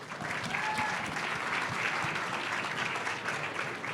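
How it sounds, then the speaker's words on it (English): Steady applause from an audience at a CES 2020 pitch competition, a dense wash of clapping that holds at an even level throughout. "Let's give a round of applause."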